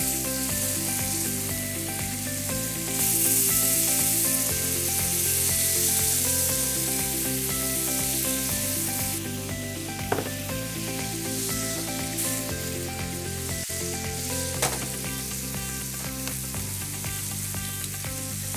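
Prawns cooking with masala and a splash of tamarind water in a pan sizzle steadily and loudly, a continuous frying hiss with a few faint clinks.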